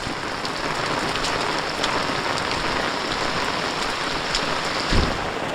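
Heavy, steady rain pours down continuously, with a brief low thunder rumble near the end.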